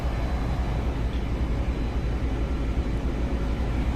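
A railway locomotive reverses to couple onto a Jan Shatabdi train, heard as a steady loud low rumble with constant engine drone and no distinct clanks, and no one speaking.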